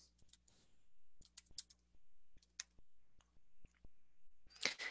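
Fingers tap on a computer keyboard in a quiet room, with short bursts of crisp clicking keystrokes in an uneven rhythm separated by brief pauses, close and fairly soft.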